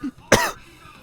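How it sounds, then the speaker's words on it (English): A single short, sharp human cough, close and loud, preceded by a faint brief vocal sound. "I need to like sneeze and cough"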